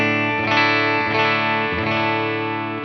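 Fender American Performer Stratocaster electric guitar played through distortion on the bridge pickup with the tone control fully up, giving bright, driven strummed chords that ring and sustain, with a few restrikes.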